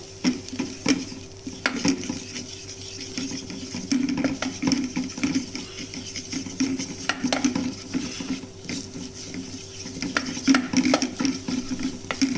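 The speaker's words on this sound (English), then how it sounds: "Now once just roasting it very slightly, the masalas." Masala spices, including Kashmiri red chilli powder, are lightly roasted in a pan for a Sindhi tomato curry with potatoes. Steady soft sizzling continues under frequent scraping and stirring from a utensil against the pan.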